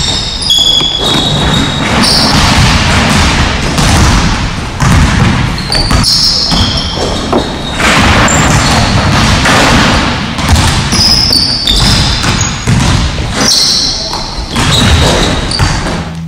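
Basketballs bounce and thud on a gym court during a form shooting drill, repeated dull impacts over a loud, reverberant hall with squeaking shoes and background voices.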